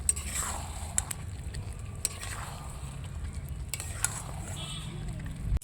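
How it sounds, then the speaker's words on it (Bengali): Chicken bhuna sizzles softly in a pan cooked without added water, with occasional sharp spatula clinks against the metal and stirring scrapes over a low steady fry. "আমি আজকে জল ছাড়াই এই চিকেনটা রান্না করব।"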